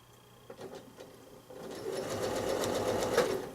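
A sewing machine doing free-motion quilting on fabric, stitching along a diagonal line; a steady rapid needle hum starts softly, then builds to a continuous, louder whirring run.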